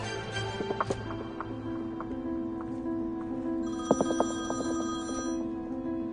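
A telephone rings close by in a quiet room, giving a steady electronic ringing tone with a brief clattering burst midway through.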